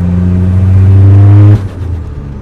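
A turbocharged Seat Ibiza engine, over 440 hp with nitro, roars at high steady revs, loud and close, then cuts off abruptly into a lower idling rumble.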